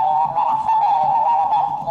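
A loud, sustained parrot squawk rings out close by, harsh and nasal, wavering slightly over about two seconds with no talking.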